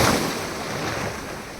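Sea waves washing onto a beach near Mangalore, a continuous broad rushing surf with wind, loudest at the start and then steady.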